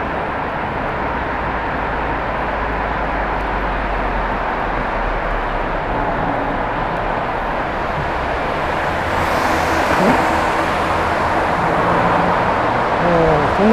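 Car passing through a long new road tunnel on a cycling trip, a steady booming roar that swells and grows louder toward the end as the vehicle nears, with the tunnel's echoing rumble throughout.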